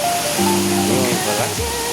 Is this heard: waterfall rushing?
yes